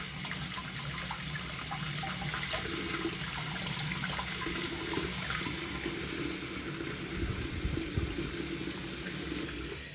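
A steady stream of tap water runs over HP Officejet printer head nozzles, a continuous close hiss and splatter holding at the same level for the full stretch with no voices.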